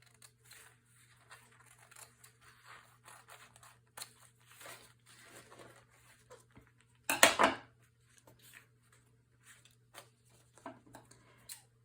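Scissors snipping a paper napkin printed with an image for a decoupage journaling card, a brief close crisp cut burst amid soft quiet handling rustles, with no voices.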